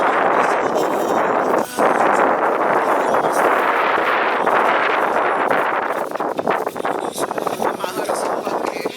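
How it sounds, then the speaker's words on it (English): Strong wind roars and buffets outdoors, a loud continuous rushing gust with rumbling noise across the whole stretch. "So windy outside, y'all."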